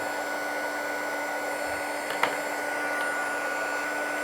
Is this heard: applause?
no